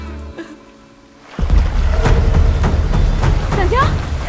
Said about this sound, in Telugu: వర్షం ఎక్కువ పడుతుంది